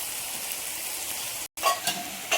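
Spice masala frying in oil for a cauliflower curry gives a soft steady sizzle, a sudden brief dropout, then brighter crackling with a few clinks close by.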